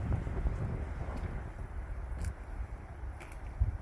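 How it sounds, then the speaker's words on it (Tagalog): Strong wind on a mountain buffets the microphone in heavy, uneven low rumbling gusts for a few seconds, with faint leaf rustle higher up. "Ay, naku po, ang super ng hangin."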